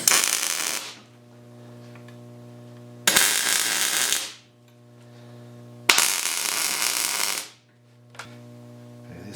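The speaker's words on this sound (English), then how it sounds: "So let's get some welding done." Three long bursts of welding crackle, each about a second and a half with a sharp start and a fading tail, separated by quiet gaps with a steady low hum, as standoffs are welded onto a lathe stand; a brief click near the end.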